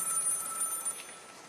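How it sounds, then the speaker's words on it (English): A telephone bell rings in a quiet room, one short continuous ring that stays steady and fairly faint before fading slightly, with no talking over it. "the phone rang."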